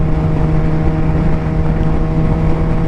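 A Suzuki GSX-R 750 motorcycle engine holds steady at 5,000 RPM, a loud, close, constant droning hum with a strong low tone and no breaks.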